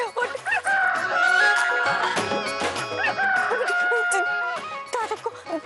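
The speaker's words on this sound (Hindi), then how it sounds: "तारे को मुर्गे की आवाज सुनाई पड़ी" A rooster crows repeatedly amid busy music and other layered sounds, the calls rising over a dense, loud mix.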